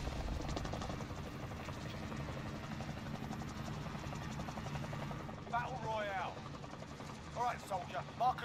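Droning aircraft and helicopter engine hum inside the Warzone battle royale game, a constant buzzing rumble throughout, with a few sharp game effects and voices surfacing over it in the final seconds.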